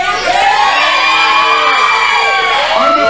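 A loud wrestling arena crowd cheers and shouts continuously at a CWF event, a dense wash of whoops and yells that holds steady throughout.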